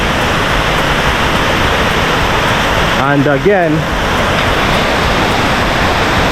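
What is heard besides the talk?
waterfall in Bali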